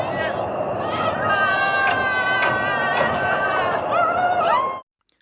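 A group of Russian embassy staff cheer and shout with joy on the Tumen River railway bridge after crossing the North Korea–Russia border, pushing a loaded rail handcart; a loud, continuous crowd babble of excited voices and whoops that cuts off abruptly.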